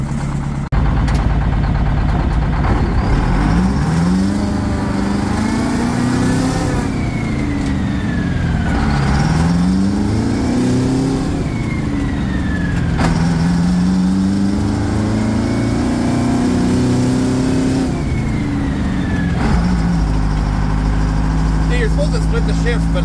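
An old Detroit Diesel engine in a truck runs while warming up, a loud, close, rumbling idle with repeated rising and falling revs as gears shift, and a voice speaks over it.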